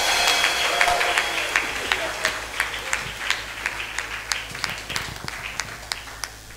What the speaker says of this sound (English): Now, if you want to clap for Jesus, can you make it more resounding right now?